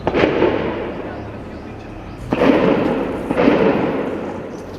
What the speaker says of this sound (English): Heavy gunfire was heard along with what could be made out to be explosions.